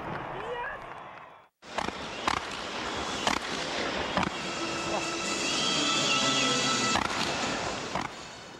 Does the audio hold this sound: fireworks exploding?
yes